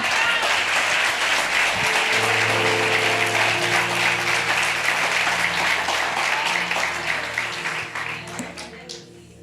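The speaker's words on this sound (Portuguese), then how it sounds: "As palmas louvam ao Senhor." Applause from a church congregation at a women's conference in Lisbon, Portugal: loud sustained clapping with voices and cheers mixed in, tapering off toward the end.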